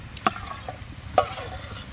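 Prawns tossed into a pan of cooked-down raw jackfruit and potato, followed by a couple of sharp spoon scrapes over a steady low sizzle, close and fairly quiet.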